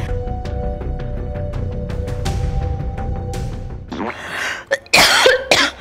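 Someone coughs and clears their throat several times after eating spicy seblak rice, close and loud, the bursts growing harsher toward the end.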